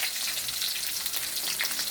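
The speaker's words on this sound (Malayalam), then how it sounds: "ഉള്ളി ഒന്ന് ഇതാവട്ടെ," Onions fry in a pan, softening before curry leaves and chillies go in, giving a steady close hiss and crackle of sizzling oil that carries on for the whole two seconds with no talk over it.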